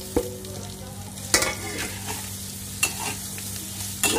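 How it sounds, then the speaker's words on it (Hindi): Green chilies being stirred into hot pickle masala in a pan, a low steady sizzle punctuated by a few sharp spoon scrapes and knocks at intervals, close by. "मिर्ची को मिक्स कर दूंगी"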